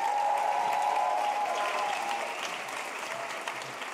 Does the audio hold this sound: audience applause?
yes